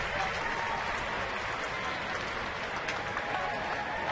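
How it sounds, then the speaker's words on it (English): A baseball stadium crowd claps and cheers during a Pittsburgh at Houston game, a steady wash of distant applause with no clear pauses. "Crowd getting into it, trying to give Brett Myers a little support"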